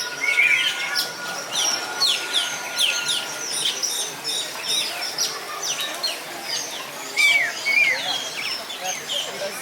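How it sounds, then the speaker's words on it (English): Peacock and pheasants calling at Disney's Animal Kingdom, a series of sharp, shrill chirping and crowing calls repeating throughout, fairly close and loud, with people talking intermittently in the background. "that was a peacock, but those are pheasants."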